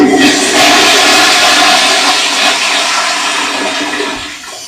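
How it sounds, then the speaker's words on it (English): A toilet flushes loudly and close up, a single continuous rush of water that holds strong for several seconds and then begins to taper off. "we'll give the toilet flush for Scotty, all right?"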